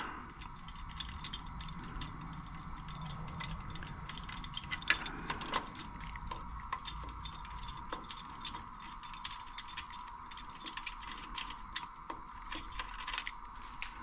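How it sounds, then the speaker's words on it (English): Metal clicking and ratcheting as a steering wheel puller is removed from a 1970 Buick tilt steering column, a steady run of small mechanical clicks and scrapes up close, with no talking. "Get this wheel puller off of here."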